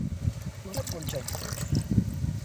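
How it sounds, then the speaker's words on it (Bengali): Boron solution poured into water for spraying cabbage and cauliflower plants: a light, uneven trickle and splash lasting a few seconds, with low murmuring voices underneath. "এই বোরনটা ঢেলে দেওয়া হলো"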